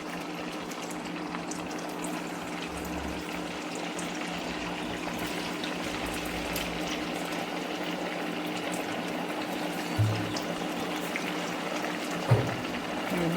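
A sabudana vada dropped into hot oil in a pan on an electric stove, frying with a steady, even bubbling hiss throughout, with a couple of faint soft knocks near the end.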